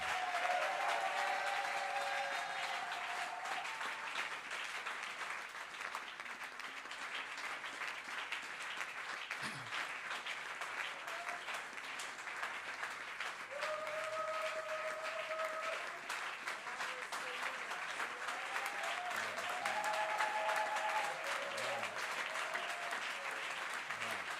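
A church congregation at a Sunday service applauds steadily and loudly for about twenty-four seconds, a dense sustained clapping with faint tonal music drifting underneath.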